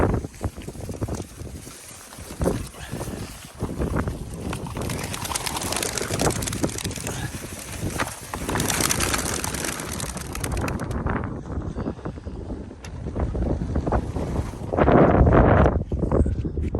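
Old racing pigeons released for their first flight in five months: a burst of flapping wings comes through heavy wind buffeting on the microphone, continuing for several seconds outdoors.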